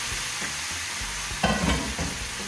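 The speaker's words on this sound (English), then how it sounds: "we're just gonna give that a quick mix to get all the peppers and onions" Strips of seasoned pork tenderloin with peppers and onions sizzle steadily in a hot pan while being stirred, with a brief louder scraping stir partway through, close and continuous with no talking.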